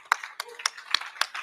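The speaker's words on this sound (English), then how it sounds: "let's give a round of applause for them" A few scattered claps from a conference audience, sparse and uneven single hand claps rather than full applause, fairly close and moderately loud.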